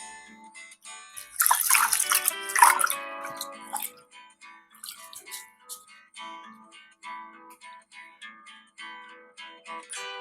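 One and a half cups of basmati rice swished and rinsed in a bowl of water, with a louder splashy stretch early on, then soft drips and trickles, close and quiet.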